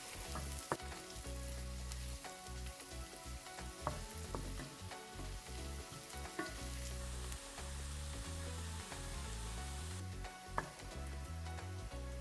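Mushrooms with garlic and chopped parsley fry in a pan, a quiet, steady sizzle broken by sharp scraping clicks as they are stirred.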